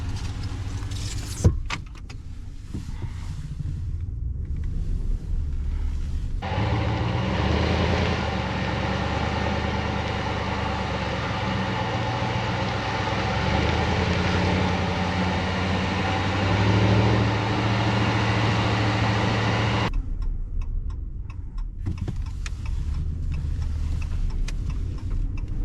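A Ram 1500 Classic HEMI pickup truck driving on rough terrain, its engine and road noise a steady loud drone for most of the stretch, with quieter cabin sounds before and after.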